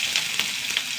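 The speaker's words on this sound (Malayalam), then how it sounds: "എണ്ണ ചൂടാവട്ടെ. കുറച്ച് കടുകിട്ട് കൊടുക്കുക." Mustard seeds sizzle in hot oil, a brief close hiss with a few small crackles and pops, alone and without talking.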